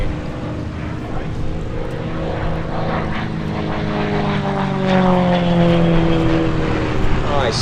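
A Gamebird GB1 propeller aerobatic aircraft drones overhead at Sywell airshow, its engine pitch sliding and swelling as it rolls and maneuvers, with a voice talking over the sound.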